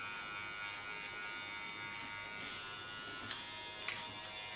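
Electric hair clippers buzz in a faint, steady hum during a super-short haircut, with a couple of brief clicks of the blade being adjusted.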